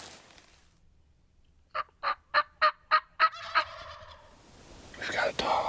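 Wild turkey tom on public land in spring, gobbling close by in a quick series of about seven loud, evenly spaced pulses rising out of quiet woods, followed by rustling.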